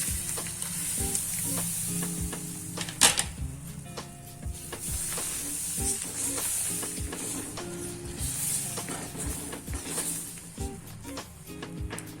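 Pudla batter, a Gujarati savory pancake, poured onto a hot pan that was wiped with a cloth, sizzles in a steady, fairly loud hiss with a sharp clatter near the middle and soft utensil knocks throughout.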